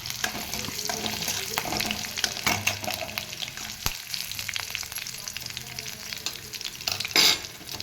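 Cumin seeds, mustard seeds, dried red chillies and green chillies fry in hot mustard oil in a pan, giving a steady close sizzle and crackle with brief stirring scrapes, and no talking.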